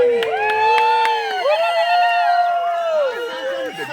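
A crowd at a family celebration for handing a house key to a grandmother breaks into loud, high trilling ululation and cheers, wavering voices overlapping close by throughout.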